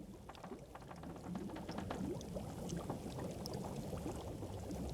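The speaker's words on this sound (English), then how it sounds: "whether you are boiling water, you hear a nice little collection of bubbles to let you know in the background" Water boiling on a stove in the survival video game The Long Dark, a quiet bed of soft bubbling and gurgling pops that thickens after the first second and continues steadily.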